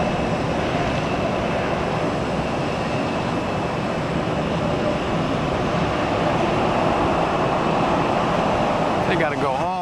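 A steady, loud roar from an airliner's jet engines taking off at Tampa airport, heard continuously and close for about ten seconds, with a faint higher whine rising near the end.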